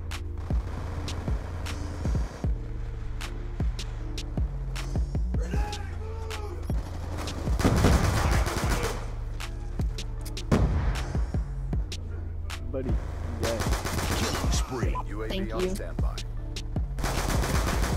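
Gunfire from a weapon in Black Ops 2 on a laggy online lobby: repeated bursts of loud automatic shots, crisp cracks over a low game rumble, with heavier volleys partway through and no talk over them.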